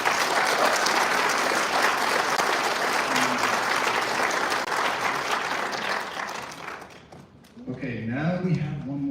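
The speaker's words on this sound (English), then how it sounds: "Let's give them a round of applause." A loud, full round of applause from the audience at the 2024 Arkansas Valley Regional Science Fair awards ceremony. It is sustained for about seven seconds, then dies away as a voice starts talking.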